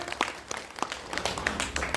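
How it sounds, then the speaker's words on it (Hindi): A seminar audience in Agastyamuni claps together, a dense burst of applause with distinct individual hand claps, fairly close and continuous for a couple of seconds. "ताली बजाइए एक बार।"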